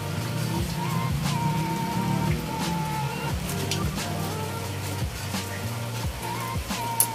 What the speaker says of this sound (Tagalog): medyo maulan dito sa amin ngayon